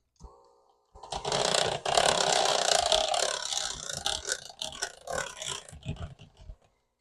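An electric mixer beats cheesecake batter in a bowl, a loud, rough, continuous whirring and churning that runs for several seconds, then breaks into choppy bursts before stopping.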